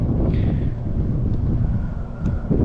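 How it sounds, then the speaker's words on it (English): Wind gusts blow steadily across a microphone outdoors during a midday photo shoot, a loud, continuous low rumble with no one speaking. "And the wind doesn't make it easy either, because now it's like super cold."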